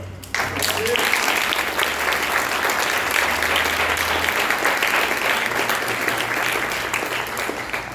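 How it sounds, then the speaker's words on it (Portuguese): A church congregation breaks into sustained applause, dense clapping that fills the room for several seconds while a voice carries on speaking beneath it. "Vamos aplaudir o nome do Senhor?"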